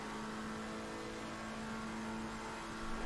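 A Porsche race car engine in a sim racing game, a continuous steady drone at moderate volume, heard from up close without any talk.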